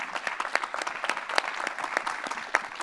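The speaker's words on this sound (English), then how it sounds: "Let's give Paul another round of applause" An audience applauds after an author's talk on a Billie Holiday biography, close individual claps standing out in a brief, moderately sparse round.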